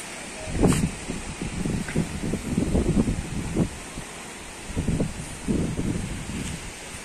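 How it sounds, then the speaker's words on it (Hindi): Strong wind gusts through a village ahead of a storm, buffeting loudly in repeated surges and rumbling against the microphone, with short lulls between blasts. "बहुत ही तेज हवा चल रहा है यहाँ पर"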